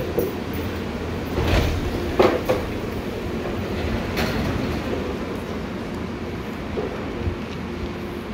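An airport shuttle train at Las Vegas rolls along with a steady low rumble, a few louder clunks and squeaks of the cars early on, then a smoother continuous hum to the end, with no talking.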